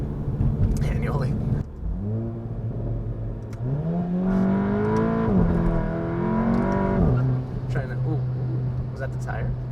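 A modified VW Golf GTI engine revs hard up toward redline, the pitch climbing, holding high, then dropping back to a steady idle-like drone, with people talking over it inside the car.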